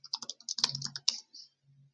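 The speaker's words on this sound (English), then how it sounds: "I'll go ahead and type in my new content." Quick bursts of typing on a computer keyboard, close and crisp clicking keystrokes in uneven clusters, then a short pause and a couple of softer taps, with no talking.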